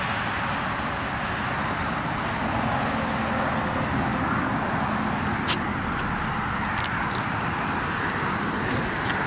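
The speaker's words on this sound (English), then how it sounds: "Right now the vehicle is running." A 2006 Dodge Charger with a transmission control fault code idles steadily, a dense broadband engine hum and roar heard close with a few faint clicks near the end.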